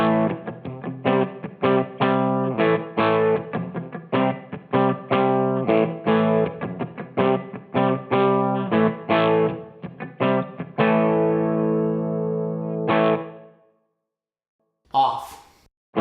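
Electric guitar played through a BOSS EH-2 Enhancer pedal with distortion: loud, rhythmic distorted chord strums, then a long sustained ringing chord that fades, followed by a brief burst of noise near the end.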